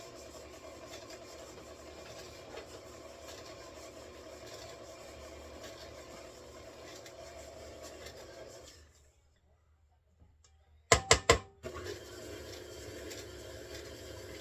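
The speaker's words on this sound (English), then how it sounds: "I'm going to cream those two together. I'm just using my standard KitchenAid mixer today." A KitchenAid stand mixer creams ingredients in a home kitchen with a steady, faint motor whir, stops for a short silence, then a few sharp knocks sound before the whir starts up again.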